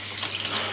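Water runs steadily from a tap, a bright continuous splashing hiss, close by and brief, with no talking.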